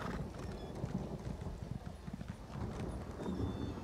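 Horse hooves clip-clop in a steady, fast rhythm over a windy outdoor background, close and moderately loud, in a video game set in Cyrodiil.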